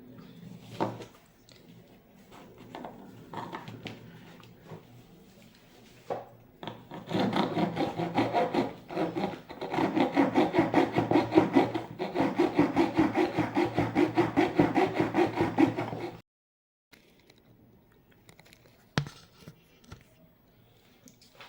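Acrylic square tube cut by hand with a saw, rapid rhythmic back-and-forth strokes running for about nine seconds after a few scattered handling noises, then abruptly stopping.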